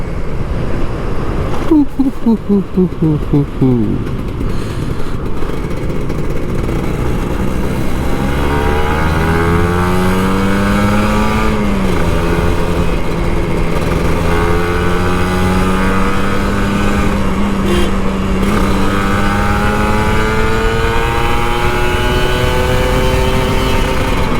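An old Kawasaki Ninja RR 150 motorcycle revs hard on a morning ride, its engine note sweeping up and down through repeated throttle blips, loud and close.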